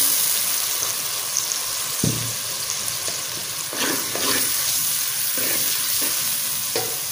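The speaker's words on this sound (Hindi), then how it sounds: "अभी टमाटर डाल देते हैं। और साथ में अदरक लहसुन भी डाल देते हैं।" Tomatoes, ginger and garlic dropped into a pan of browned onions for mutton curry, giving a steady close sizzle broken by repeated spatula stirs and scrapes; no talking.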